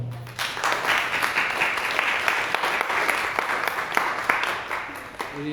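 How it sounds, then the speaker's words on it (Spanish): An audience at a live forum on democracy and women's political participation breaks into strong applause: a full, even roar of many hands, sustained for several seconds at moderate distance, with a few voices faintly underneath. "Para que también pido un fuerte aplauso, por favor"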